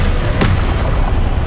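A single sharp Confringo blast spell detonates in Hogwarts Legacy during a boss fight, a loud near boom over a dense rumbling game soundscape.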